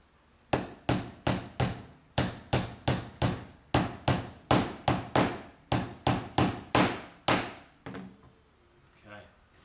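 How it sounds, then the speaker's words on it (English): Hammer blows drive nails into a timber pencil box during assembly, about sixteen sharp, evenly spaced strikes close to the microphone, followed by a couple of softer knocks. "And finish those nails off."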